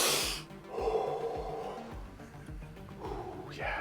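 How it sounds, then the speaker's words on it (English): Someone sniffs a freshly unboxed Warhammer 40K Space Marines plastic model kit, taking several short close nasal inhales in a row with breathy noise between them. "Let's do a sniff test."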